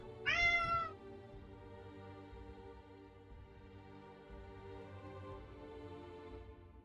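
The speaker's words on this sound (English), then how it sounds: "Oh, you silly cat." A pet cat gives one short, close meow at the start, followed by a quiet room with faint background hum.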